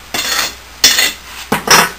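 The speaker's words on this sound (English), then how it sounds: "Take the strike-off bar, which is just a bar of steel, and strike it off" A steel strike-off bar scrapes excess sand off the top of a foundry sand mold in three separate gritty strokes, each about half a second long, close and fairly loud, with no talking.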